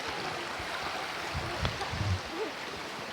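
Water rushing steadily below the Ingleton waterfalls, a dense broadband wash close by, with a few soft thumps and faint movement sounds over it.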